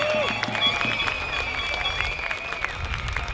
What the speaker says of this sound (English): let's put a warm round of applause to the humble men with the green vests